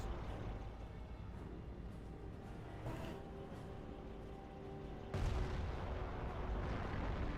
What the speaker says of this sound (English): I hear flak 88's firing away, trying to hit this guy here